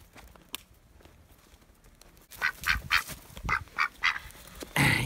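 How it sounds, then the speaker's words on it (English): A duck quacks in a quick run of loud, close calls after a quiet stretch of soft shuffling and faint background noise, ending with a longer, harsher quack. "You silly duck."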